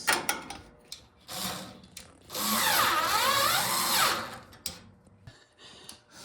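Power drill driving screws into small angle brackets while an upper cabinet is fitted inside a Nissan NV2500 campervan, with a short buzz and then a longer whirring stretch among scattered clicks and handling knocks.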